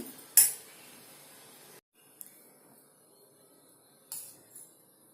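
Sweet poha pongal prasadam for Krishna Ashtami being served onto a plate, with a sharp metal clink of a spoon against the plate followed by faint scraping and a couple of lighter taps.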